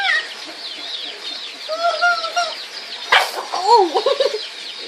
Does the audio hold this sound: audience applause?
no